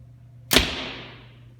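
A Mathews Halon X compound bow, drawn at 28 inches with the 75% mod, releases an arrow in one sharp, loud snap followed by a short fading string hum over a low steady background hum, with no talking.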